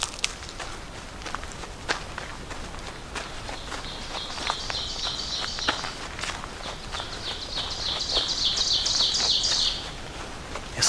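Birds sing and chirp along a wooded Appalachian Trail path near Trents Hill, Pennsylvania, bright repeated trills rising in the middle distance while footsteps crunch steadily up close throughout.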